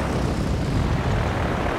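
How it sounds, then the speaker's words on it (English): Warplanes fly overhead in the naval combat game Victory At Sea Pacific, a brief, dense, steady roar of aircraft engines filling the scene. "Here comes the airplanes."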